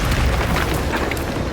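A Bombarda explosion spell goes off in Hogwarts Legacy, a dense, rumbling blast with heavy low boom and crackling debris spread over the moment, loud and close with no talk over it.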